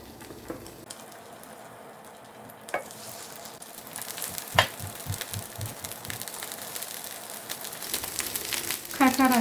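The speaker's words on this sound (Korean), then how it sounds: "동태전을 구워 보겠습니다. 계란 흰자를 사용해서 깔끔하게 굽겠습니다." Pollock fillets dipped in egg white sizzle and crackle in a hot oiled frying pan, a steady close fry with occasional sharper pops as pieces are added.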